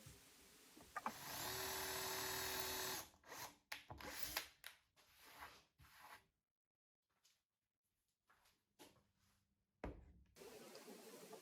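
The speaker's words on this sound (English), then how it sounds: "Once I finished drilling the holes" A power drill runs in one steady two-second burst into wood while drilling screw holes for a console table build, followed by short clattering handling noises and long quiet stretches.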